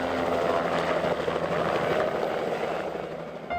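A helicopter used to chase pronghorn for wildlife research in Arizona drones loudly and continuously overhead, its steady rotor and engine roar filling the whole stretch without pause.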